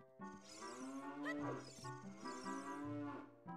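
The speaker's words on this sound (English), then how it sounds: "Hello, cow." A cow in The Legend of Zelda: Ocarina of Time lets out a drawn-out, tonal moo that wavers in pitch across several seconds, heard clearly on its own.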